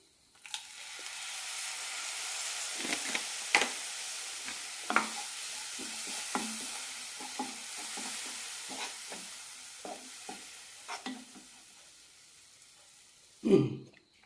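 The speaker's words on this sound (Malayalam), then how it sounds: "ഇനി ഇതിലേക്ക് ഒരു ടേബിൾ സ്പൂൺ വിനെഗർ ഒഴിക്കാം" Vinegar splashes into a pan of raisin pickle with chilli powder, sending up a steady frying sizzle broken by scattered sharp crackles and spoon clinks, with a louder burst near the end.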